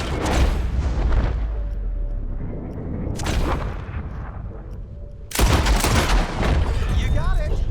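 Volleys of gunshots in Red Dead Redemption 2 as bottles are shot, with three loud broadband bursts near 0, 3 and 5.4 seconds, each trailing into echoing reports, mixed with game sounds and talk.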